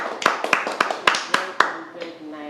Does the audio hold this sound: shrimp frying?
no